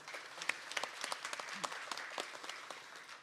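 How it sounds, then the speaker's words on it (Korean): Faint applause follows a policy presentation at a forum on digital innovation, with a crowd clapping in quick irregular patter, distant and soft, with a brief murmur of voices mixed in. "발표해 주신 박재문 총장님께 다시 한번 박수 부탁드립니다"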